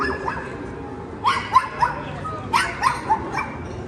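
Small dog barking and yipping outdoors in Guanajuato, Mexico: a few quick high barks followed by a second cluster of three or four sharp yaps, close by, with people talking around them.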